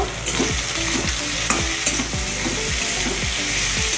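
Chili powder is stirred into a masala of onion and tomato frying in a pan for koi fish curry, with a steady loud sizzle and a regular scrape of stirring strokes about twice a second.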